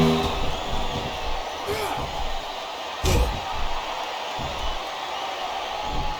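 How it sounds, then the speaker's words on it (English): Capacity wrestling arena crowd during a casket match, a broad continuous roar of cheering with a couple of louder swells and thuds, heard under a commentator's talk. "This capacity crowd is making their opinions known tonight"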